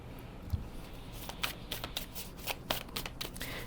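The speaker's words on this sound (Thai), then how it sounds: "แม่หมอใช้ไพ่ทาโร่แล้วก็ไพ่ออร์เคิลนะคะ" Tarot and oracle cards shuffled close up, a continuous riffling patter of card edges with small clicks and snaps, alone without talk.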